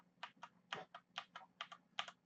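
Typing on a Corsair K70 LUX mechanical keyboard with Cherry MX Red switches, a quiet, close run of about a dozen soft, evenly paced key clacks heard alone.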